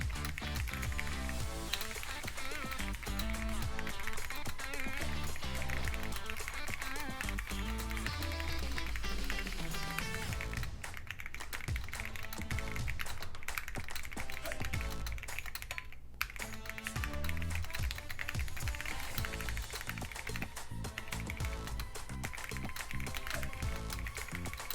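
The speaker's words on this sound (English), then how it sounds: "Using Q5 Max keyboard right now." Steady, continuous typing on a Keychron Q5 Max mechanical keyboard with brown switches, dense rapid key clacks close up under loud background music throughout.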